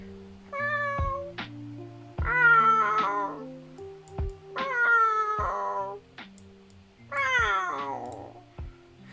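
A person imitates a cat with four drawn-out, rising and falling meows, each followed by a pause, close and fairly loud with no other talk.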